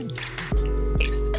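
Water dripping close by, a few distinct plops with descending tones and a low liquid rumble beneath.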